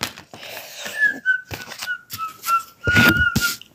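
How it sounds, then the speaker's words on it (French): A person whistles a short, wavering melodic line in several phrases, close and clear, broken by soft handling knocks and a louder rustling burst near the end. "Alors, je siffle, oui."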